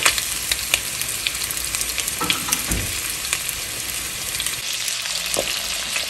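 Longaniza sausage frying in oil in a pan, a dense, loud, continuous sizzle and crackle with occasional stirring scrapes, close up and without voices.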